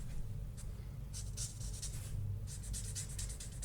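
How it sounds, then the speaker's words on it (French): A felt-tip marker colouring on paper, soft repeated scratchy strokes going back and forth in quick bursts over a low background hum, close and quiet, with no talking. "je vais terminer le restant à colorier en repassant bien sur la zone de démarcation pour bien que les deux couleurs se mélangent entre elles"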